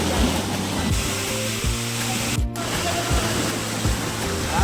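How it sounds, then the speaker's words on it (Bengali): A waterfall in hilly country roars as a dense, continuous rush of falling water, loud and close, with one brief dropout in the middle and a few low thumps beneath the steady spray. "ওখানেই ছিল ঝর্ণাটা, তো আমরা সবাই ওখানেই যাচ্ছিলাম।"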